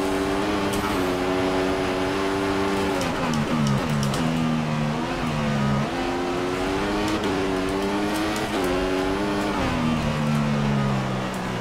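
A Formula One car engine in a PC racing game whines at high pitch, climbing through gears with abrupt drops at each shift, continuous and loud throughout with occasional faint tire noise.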